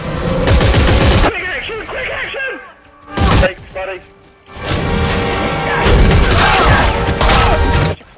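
Bursts of gunfire in the co-op sci-fi horror game Dead Space 3, loud rapid shots in two long runs separated by a brief lull with scattered thuds, and a faint creature-like screech early on.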